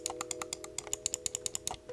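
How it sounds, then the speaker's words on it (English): Rapid plastic clicks from a Razer Pro Click mouse, its main buttons and scroll wheel pressed in a quick irregular run of about a dozen sharp close ticks over a steady faint hum. "Clicking on the scroll wheel as well as main clicks."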